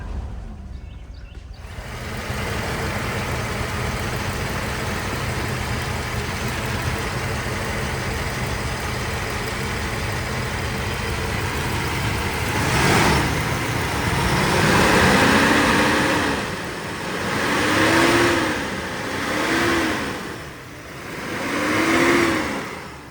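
A C126 Mercedes 560SEC idles roughly while warming up, a steady close engine drone that swells into several short revs near the end, rising and falling in separate bursts.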